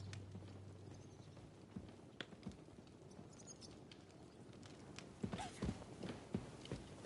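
Faint horse hoofbeats in the video game Kingdom Come: Deliverance 2 clop at an unhurried walking pace against a low ambient hum, growing a little louder and busier toward the end.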